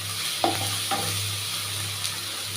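Spiced tomatoes and green chillies frying in a pan with a steady sizzle, broken by a few sharp scraping knocks of a stirring spoon, close and fairly loud with no talking.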